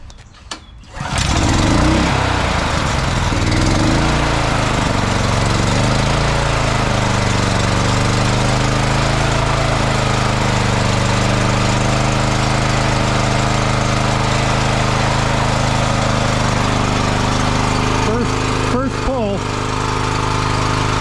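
A Simpson gas pressure washer engine, its carburetor recently cleaned, catches after a pull start and settles into a steady, loud, continuous running drone that lasts throughout, with a brief voice near the end.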